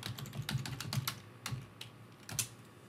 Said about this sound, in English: And then you would just type in the URL.